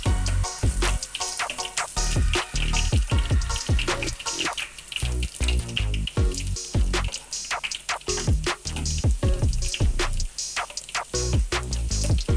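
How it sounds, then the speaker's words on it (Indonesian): Oil poured over small Padang-style mini omelette batter in a hot pan, producing continuous crackling and sizzling spatters with a loud, dense bubbling texture throughout. "Kemudian disiram dengan minyak ya Bunda."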